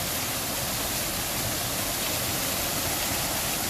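Broad, steady rush of splashing water fills the air without pause, loud and close, in Parque Genovés in Cadiz.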